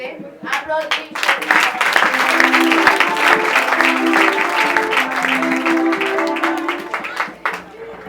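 Church congregation applauding, loud sustained clapping from a crowd, with singing or voices running underneath and a few sharp claps at the start and finish.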